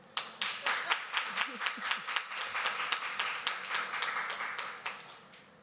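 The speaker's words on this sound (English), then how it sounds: "Can we get another warm welcome and applause for Karen?" Audience applause at a women's training event session, sparse and fairly quiet, with a handful of distinct hand claps in a loose rhythm swelling briefly into denser clapping before thinning out.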